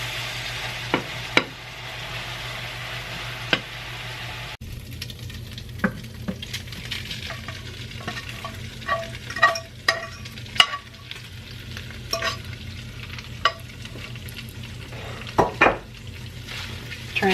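Chili ingredients frying in a pan, stirred with a utensil: a continuous sizzle under repeated scrapes and light metallic clicks and taps against the pan, close and fairly quiet, with no talking.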